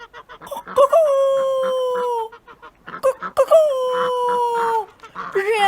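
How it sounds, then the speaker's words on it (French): In a narrated telling of The Town Musicians of Bremen, a rooster-like crow rings out twice, long sustained harmonic calls with a falling tail, fairly loud and close, with clucking sounds between them. "Sur la porte de la cour était perché un coq qui chantait haut et fort."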